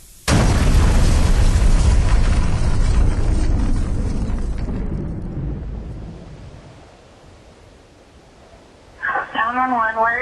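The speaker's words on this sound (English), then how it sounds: "The propane tank blew up." A propane tank explosion levels a general store, with a sudden massive boom followed by a long rumbling roar that slowly fades into quiet before a voice briefly speaks.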